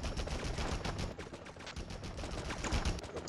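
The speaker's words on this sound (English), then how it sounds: "Stop shooting at me, jerky police!" Police gunfire in the Spider-Man PC video game, rapid continuous bursts of shots like a machine gun, dense and repeated through the whole stretch with no pause.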